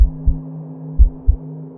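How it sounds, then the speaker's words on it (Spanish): A slow, deep heartbeat for a horror story about a pulsing jar: four low thuds in loose pairs throb over a steady electric hum, loud and close with no other sound. "El latido se hizo más fuerte"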